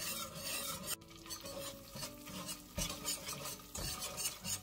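Corn flour being stirred and toasted dry in a pot over medium heat for chicken soup, with steady scraping and rasping strokes and a faint sizzle, close and continuous.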